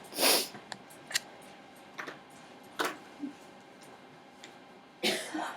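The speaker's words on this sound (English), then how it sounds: "I keep getting sneezes stuck." Several short, muffled bursts of breath, like stifled sneezes, come at the start and end, with faint sniffs and small rustles in between.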